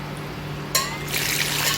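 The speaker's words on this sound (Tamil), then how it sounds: "இது முழுகிற அளவுக்கு தண்ணி ஊற்றுனீங்கனாலே போதும்" Water is poured into a container of chopped fruit peels to make bio enzyme at home, a close splashing fill that starts abruptly after a quiet moment and continues steadily.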